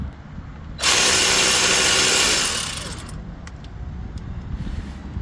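A ratchet loosens the 13mm oil drain plug on a 2019 Mercedes E300 with M274 engine, giving a loud, dense burst of clicking and grinding for about two seconds that tapers off, followed by faint scattered knocks.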